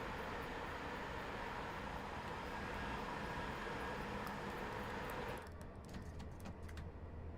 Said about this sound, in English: Talking of trains, got another train go past there.